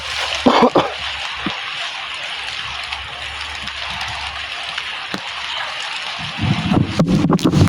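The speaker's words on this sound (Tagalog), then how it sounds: "nandito na yung ulan" Rain falls steadily outdoors as a broad hiss with occasional heavier drips and sloshing water, ending in a louder burst of splashing near the end.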